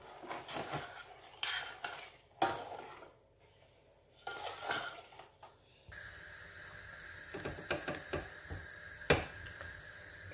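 Vanilla sugar and brown sugar are stirred into water in a pot, with a utensil scraping and clinking in repeated bursts separated by short pauses, close and fairly quiet.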